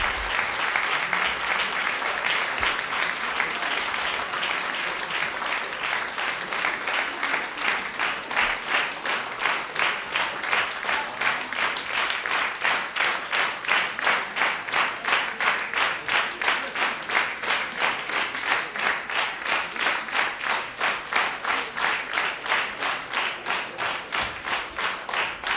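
An audience applauds a music therapy band after its performance with dense, sustained clapping that settles into a rhythmic, synchronized beat partway through and stays loud throughout.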